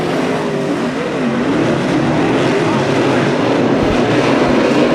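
Race cars start a heat race at Bakersfield Speedway, a dense, loud roar of several engines with rising and falling whines as the pack accelerates together off the start.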